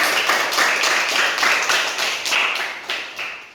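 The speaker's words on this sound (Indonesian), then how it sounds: "tepuk tangan yang keras buat kita semuanya" A classroom of students clapping loudly together, fast and dense, close and bright, the claps keeping an uneven pulse before tapering off near the end.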